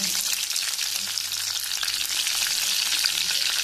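Mustard seeds, cumin and green chilies frying in hot oil give a steady, bright sizzle and crackle up close, with a few small pops and no talking.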